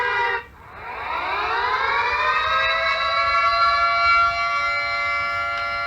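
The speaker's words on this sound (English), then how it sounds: "This guy's just sitting outside and playing fake siren sounds." A civil defense siren plays outdoors, rising smoothly from low to a sustained high wail after a brief opening burst, loud and alone for several seconds.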